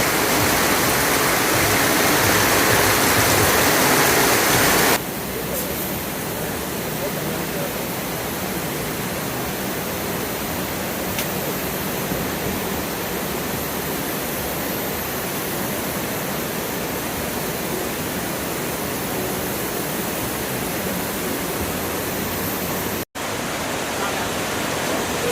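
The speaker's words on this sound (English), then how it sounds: "As you can see, it's flooded." Floodwater rushes steadily in Kuala Lumpur near Berjaya Times Square, a loud, continuous broadband roar with a brief louder stretch at the start, no voices over it.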